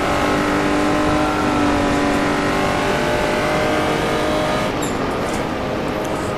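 A Jaguar D-type race car at full throttle at Goodwood, heard from on board, with a loud, steady engine drone that holds its pitch and fills the whole clip, without talk.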